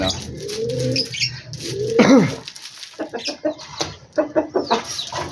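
Chickens clucking close by, a busy overlapping series of short clucks and coos, loud and irregular, with one longer warbling call near the middle.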